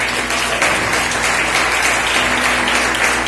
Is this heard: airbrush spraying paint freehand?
no